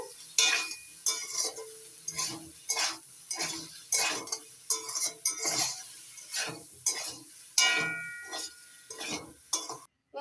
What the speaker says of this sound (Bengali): দুই চামচ সয়া সস আর দুই চামচ টমেটো সস মিশিয়ে দিয়ে দিচ্ছি ভালো করে মিশিয়ে নেব